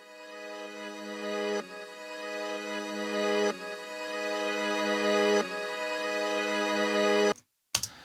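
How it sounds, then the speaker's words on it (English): A thick, harmonically rich synth drone swells steadily in repeating phrases, each rising then cutting off abruptly, like a reversed wub, before a brief silence and a final stab. "A little wub kind of reverse sound."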